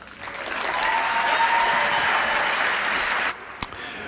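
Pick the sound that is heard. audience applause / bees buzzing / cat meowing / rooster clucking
audience applause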